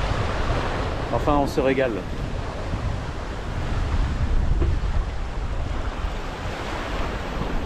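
Strong wind buffeting the microphone by the sea, with surf rumbling beneath and a voice speaking briefly near the start.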